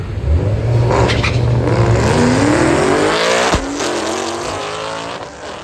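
Drag racing car launching down a quarter-mile strip, a loud close engine roar that climbs steadily in pitch through the gears, then drops away with a sharp shift.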